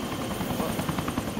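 Rotor chop of a helicopter in the video game Arma 2 DayZ Mod, a steady pulsing thrum with a high whine, close and continuous through the brief moment.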